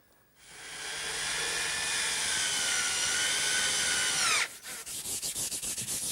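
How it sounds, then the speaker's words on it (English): A power drill driving screws into a wooden fireplace mantel shelf, a steady loud whine of about four seconds that winds down, followed by short rhythmic bursts, close up and without talk. "I'll attach it with some screws and brads"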